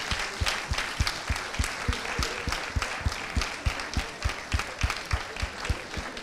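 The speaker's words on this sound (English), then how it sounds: "please give a big clap to all these young leaders" A conference audience applauds young leaders in a large hall, with a loud, continuous wash of clapping and sharp rhythmic claps punching through at a steady beat.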